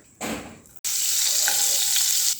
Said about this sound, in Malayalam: പാൻ കത്തിക്കുക ഇതാ സൺഫ്ലവർ ഓയിൽ ആഡ് ചെയ്യാല്ലേ കുറച്ച് ഓയിലും കുറച്ച് ബട്ടറും